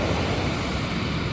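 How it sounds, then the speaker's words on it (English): Ocean waves at a beach in Cambria, California, a dense continuous wash of surf with wind noise, steady and fairly loud, no talking. "Waves."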